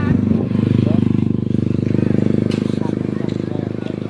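A motorcycle on a road gives off a steady, close engine drone with a fast throbbing pulse that holds for the whole stretch, while voices talk over it.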